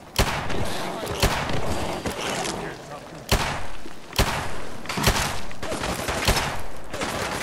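Repeated pistol shots in Fallout 4, sharp loud cracks spaced irregularly about a second apart over a steady game background.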